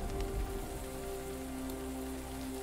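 Steady rain falls in the video game Grim Legends: The Forsaken Bride, a continuous even patter on a surface with a faint tonal hum beneath it and no voices.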